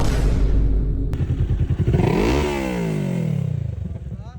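A loud 650cc big bike motorcycle engine idles roughly, then revs up and drops back down, its pitch sweeping high before settling into a throbbing idle.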